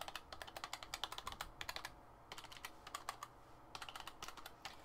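Quick, crisp clicking of keys on a small Japanese-character keyboard attached to a PlayStation 2 controller, typed in rapid bursts with short pauses, close and fairly quiet.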